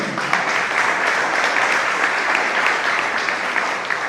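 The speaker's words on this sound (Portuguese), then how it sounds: "muel Brito, presidente da marcha para Jesus, você quer aplaudir o senhor com alegria, amém?" A church congregation applauds continuously and loudly, a dense, steady wash of clapping from many hands across the room with no pause.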